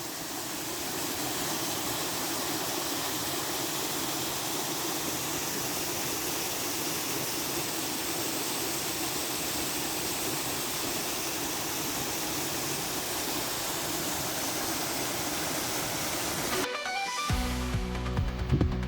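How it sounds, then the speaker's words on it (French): A waterfall near Notre-Dame de Consolation pours in a steady, dense rush of water, loud and close throughout, with a brief burst of handling noise at the very end. "Cascade près de Notre-Dame de Consolation, où l'on vient de pique-niquer."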